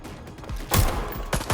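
Gunfire in the video game Watch Dogs Legion, a couple of loud, abrupt bursts of shots close by, separated by a short gap of quieter background noise.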